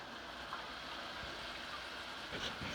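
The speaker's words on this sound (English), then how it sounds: "we're gonna take a little bit of this chicken stock and pour it in here" Chicken stock poured into a cooking pot in a home kitchen, a steady faint liquid trickle and splash running throughout, with a few soft clunks near the end.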